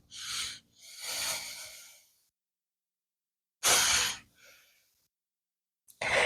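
Slow, audible breathing during a dance exercise: two long exhales, a pause of silence, then another strong breath with a shorter follow-up and a fresh breath starting, close and alone.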